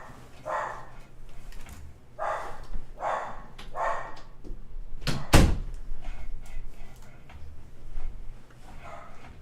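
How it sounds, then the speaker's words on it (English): A door pushed shut in a room, one sharp close thump standing out midway amid quiet background noise and a few muffled barks or voice-like bursts. "we're gonna close that door real quick."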